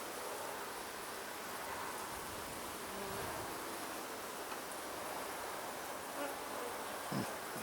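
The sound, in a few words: honeybees buzzing on a hive frame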